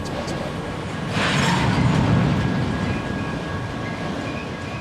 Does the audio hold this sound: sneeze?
no